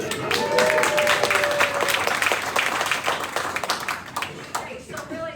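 Audience at a parish expansion update meeting claps together in a dense, sustained round of applause that tapers slightly at the end, with some voices mixed in.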